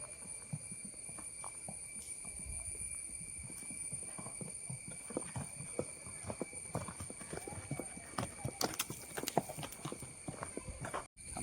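Horse hooves clip-clop steadily on a natural forest trail in Matheran during a horse ride. The hoofbeats are close and rhythmic, with a constant high insect-like whine in the background, and they grow more prominent toward the end.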